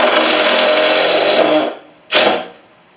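A power drill drives screws into a wooden table under construction, giving a steady loud whir for about a second and a half, then a short, sharp burst after a brief pause.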